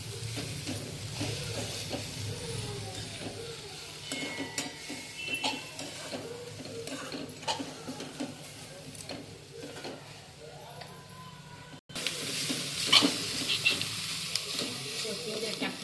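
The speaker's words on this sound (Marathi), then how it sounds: "डाळ टाकायची, डाळ, मुगाची डाळ, परतून घ्यायची" Moong dal sautéed and stirred in a pan, giving a steady low sizzle with scraping and clinking stirring strokes throughout, continuing at the same level to the end.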